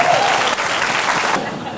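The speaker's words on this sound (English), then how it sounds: "let's give a great applause" Loud, close audience applause greets a veteran fiddler at a legendary achievement awards event, a dense roar of many hands that thins slightly toward the end.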